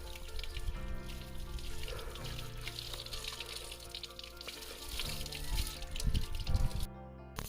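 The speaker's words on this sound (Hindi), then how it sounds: "इस तरीके के प्राकृतिक जल स्रोत अमूमन आपको लगभग हर पहाड़ी गांव में मिल जाएंगे।" A natural spring in a mountain village flows steadily outdoors, a constant close rush and trickle of water that swells slightly toward the end, with a low background hum.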